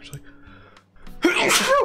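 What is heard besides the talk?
sneeze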